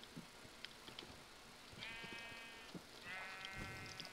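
Sheep in the Minecraft video game bleat twice, each a drawn-out wavering cry, the second slightly longer, over faint background clicks and game noise.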